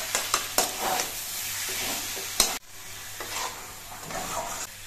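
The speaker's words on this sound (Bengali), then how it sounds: "চিনি দিয়ে মেরে চেড়ে মিশিয়ে নিতে হবে।" A spoon stirs sugar into a vegetarian banana-stem curry with mustard paste in a hot pan, with several quick scraping strokes early on, then a steady close sizzle of frying.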